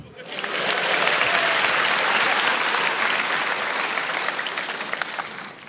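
A stand-up comedy audience at an Indonesian comedy competition claps loudly. The applause swells in within the first half second, holds as a dense, even roar of many hands, then fades slightly at the end.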